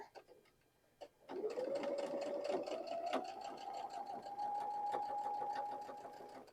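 A sewing machine stitches a seam on a quilt block. After a brief quiet pause it runs as a continuous close motor whir with rapid needle ticking, climbing slightly in pitch and holding steady until it eases off near the end.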